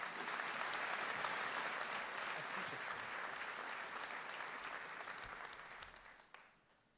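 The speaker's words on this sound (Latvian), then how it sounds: "Aplausus!" Audience applause at the Latvijas Radio 2 30th anniversary jubilee concert, a dense sustained clapping from a large crowd that slowly thins and fades toward the end, heard alone at moderate distance.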